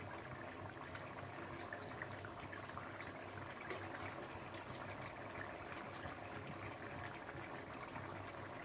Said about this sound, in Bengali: এবার আমি মাছগুলো দিয়ে দেবো এক এক করে।